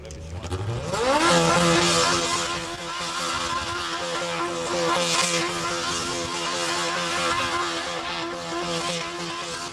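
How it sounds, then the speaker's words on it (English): A mini stock car fitted with an FJ 1200 engine revs hard at a British motorcyclists' show, rising sharply to a loud, sustained high-pitched roar that holds and wavers for several seconds. "This is an FJ 1200 engined mini stock legend."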